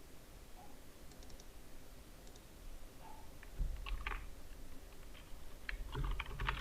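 Typing on a computer keyboard while working in Adobe Illustrator, a quiet steady hiss giving way to clusters of close, crisp key taps that grow busier toward the end, with no talking.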